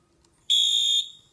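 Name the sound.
fire alarm sounding, muffled with tape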